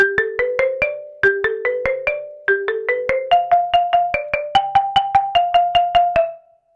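A mallet keyboard in a drumline front ensemble plays a bright, bell-like melody of separate struck notes, moving in short stepping phrases down the scale with clear ringing decays, alone and fairly close.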